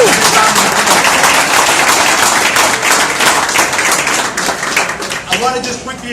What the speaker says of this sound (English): let's give him and the Gjonaj family a round of applause